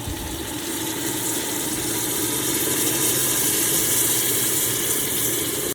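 Hot water poured into an Afghan kazan of plov, a loud, continuous, close rushing hiss and bubbling roar that holds steady for several seconds before cutting off abruptly.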